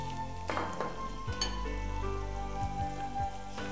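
Onion goes into melted butter in a pan and sizzles softly, with a few clinks of a utensil against the pan and a low steady hum in the background.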